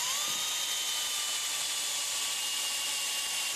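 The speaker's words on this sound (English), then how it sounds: "I just sight past the drill bit to keep it parallel with the dowel." A drill whines steadily while boring a mortise into a rustic chair post, a close, thin high-pitched motor tone holding nearly unchanged for several seconds with no talk.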